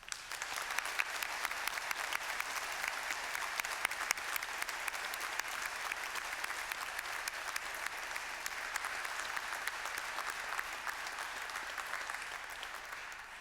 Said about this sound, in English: now I ask the members of the audience to applaud your accomplishments